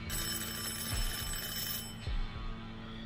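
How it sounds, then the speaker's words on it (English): A doorbell rings in the video game Everlasting Summer: a bright, insistent electric ring for about two seconds that then cuts off, leaving a quieter tone with a few low thumps. "The silence of my flat was disturbed by the ringing of the doorbell."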